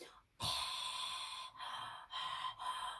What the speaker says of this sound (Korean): 이렇게 숨 쉬면 되겠습니다. 깊은 숨으로.